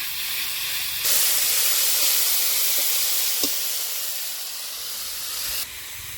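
Boiled, well-drained banana flower dropped into a frying pan for a Bengali mochar chachki, giving a steady broad sizzling hiss that jumps louder as it goes in and carries on close and alone.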